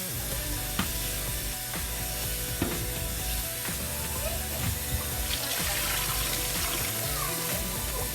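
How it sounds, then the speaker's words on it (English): Cold tap water running into a cooking pot holding rinsed lamb for a Chinese lamb stew broth, a steady broadband gush that continues without pause, with faint clinks over it and no talk. "Then we fill the cold tap water to this pot, and the water will cover the meat."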